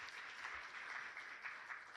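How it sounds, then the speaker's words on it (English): Seminar attendees give the panelists a steady round of clapping at the close of a session on zero-carbon city collaboration, faint and distant but continuous, with no voices. "Please give them a round of applause for their wonderful inputs"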